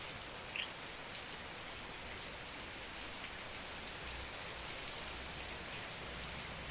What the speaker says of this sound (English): Those sheets of rain come close to you, immediately just drenching you as the rain patters down around you.